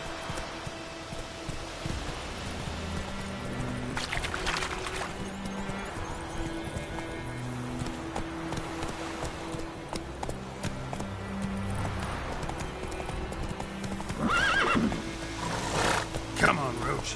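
Roach, Geralt's horse in The Witcher 3, gallops with steady hoofbeats under a game music score, with scattered voices and a louder burst near the end.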